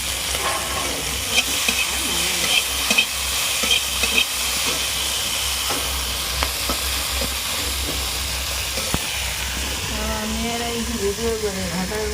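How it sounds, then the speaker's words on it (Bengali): Pitha cakes frying in hot oil for a Manasa puja make a steady, close bubbling sizzle and hiss that runs throughout, with people talking over it. "বর্মা কি হচ্ছে? এই তেলের পিঠে।"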